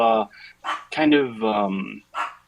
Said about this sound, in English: They're going to bark regardless of anything because they are Chihuahuas.